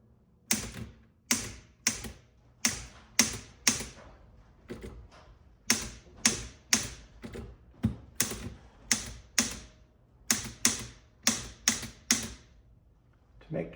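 An Underwood Rhythm Touch typewriter is typed on up close: sharp, loud keystrokes land in quick bursts of several strikes, with short pauses and an even mechanical rhythm.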